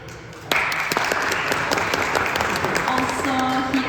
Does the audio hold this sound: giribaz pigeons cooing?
no